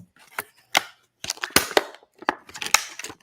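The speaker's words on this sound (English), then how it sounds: "I'm gonna use my scissors." Scissors snipping through product packaging, a series of sharp, close, irregular cuts with short pauses between them, loud and alone with no talk.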